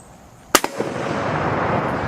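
A single sharp, loud Mosin Nagant rifle shot through a cheap eBay muzzle brake cracks outdoors, followed by quick echoing reflections and a long, fading rumble.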